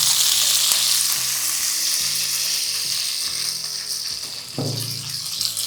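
Mustard seeds, cumin, chillies and curry leaves hit hot oil for a tempering in a spinach sabji, producing a loud continuous sizzle and crackle with stirring clinks, then a sudden burst of fresh spattering near the end.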